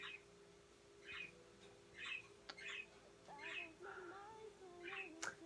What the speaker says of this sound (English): my boyfriend has really annoying birds.